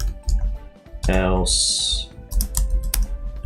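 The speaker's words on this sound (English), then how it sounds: "I'm struggling to type because I've got a new keyboard, which is meant to be quieter than my last one." Clattering keystrokes on a new, supposedly quieter computer keyboard during coding, rapid and close, with someone speaking over and between the typing.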